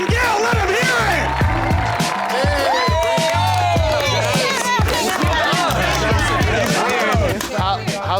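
A live comedy crowd cheers for comedians Bobcat Goldthwait and Caitlin Gill, loud whoops and shouts over steady clapping and low thumping, continuous and close throughout.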